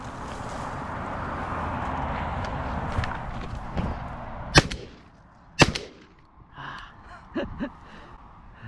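Two sharp shotgun blasts ring out outdoors during a snipe hunt, spaced about a second apart, loud and close, with rustling movement and heavy breathing before and after.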